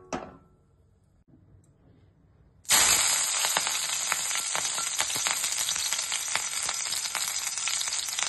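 Mustard oil hits a hot pan after a quiet pause with a faint clink, then breaks into a loud, steady, close sizzle and crackle that continues without letting up.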